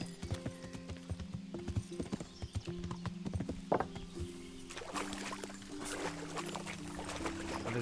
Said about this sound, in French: Avec mon cheval tout terrain.